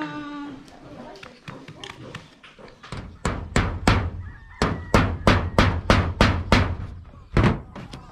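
Hammer blows driving nails into roofing, a run of sharp, fairly close impacts in quick irregular rhythm, starting after a stretch where people talk and continuing as a dense series of strikes.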